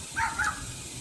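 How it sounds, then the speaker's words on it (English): Two quick, sharp dog barks close by, one right after the other, over faint background hiss. "why you barking at me?"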